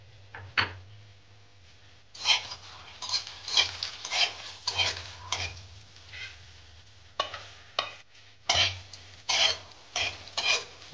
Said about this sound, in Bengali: বড়িটা কড়াই দিয়ে দিচ্ছি,